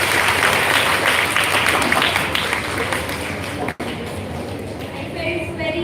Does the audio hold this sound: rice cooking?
no